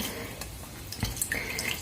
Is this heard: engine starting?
no